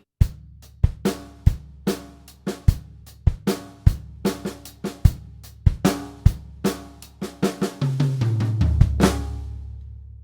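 A drum kit plays four bars of a Grade 3 exam piece, sharp separate hits in a steady pattern that thicken into a denser roll with sustained low tom and cymbal ring near the end.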